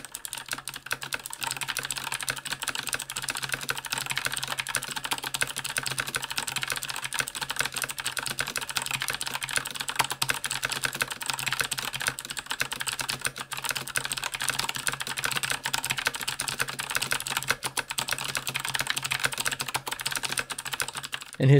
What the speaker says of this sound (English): Here's a typing test on the EG purples.